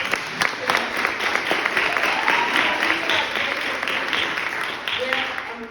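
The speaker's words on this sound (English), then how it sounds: "please give him a round of applause" Steady audience applause at an arts pitch night in Chattanooga, a continuous wash of clapping from a large crowd that holds at an even level with some voices mixed in.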